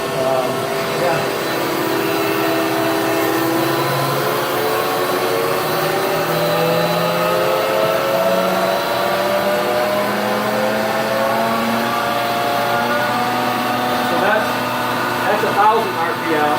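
A huge shop machine spins at about 1,000 RPM while still full, giving a loud, steady mechanical whir with rising and falling tonal harmonics throughout and no clear speech.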